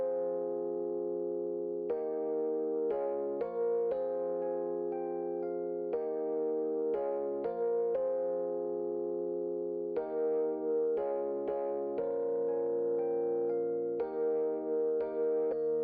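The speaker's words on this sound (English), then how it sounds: "what I've used next is this Rhodes from Omnisphere" A saturated Rhodes electric piano patch from Omnisphere plays sustained chords with a dark, warm tone in a synth pop beat, the notes changing every second or two in a steady, even pattern with no other sounds.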